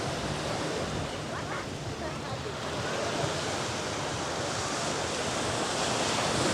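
Surf rolls onto the shore at Palm Beach, Aruba, in a continuous broad wash of breaking waves that grows slightly louder toward the end. Wind buffets the microphone.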